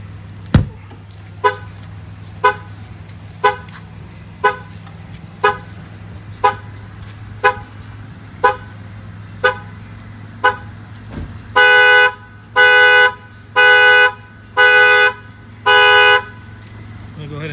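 Factory alarm on a 2018 GMC Denali truck, set off by pounding on the glass: evenly spaced sharp horn chirps, then a faster series of longer, loud honks, all close over a low steady hum.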